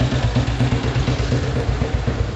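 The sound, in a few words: vintage motorcycle engine idling at a rally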